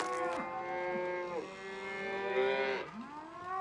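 Cattle in the Microsoft Flight Simulator 2020 game moo in a few long, drawn-out calls that rise and fall, clear and fairly close, with no talking.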